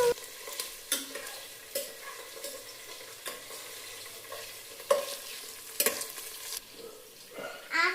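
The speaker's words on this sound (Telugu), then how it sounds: "ఇలా పుదీనా కరివేపాకు వేస్తున్నా. నేను కలుపుతా" Mint and curry leaves frying in a pan with onion and green chilli make a soft sizzle. Irregular scraping strokes from a stirring spoon come up close and fairly loud.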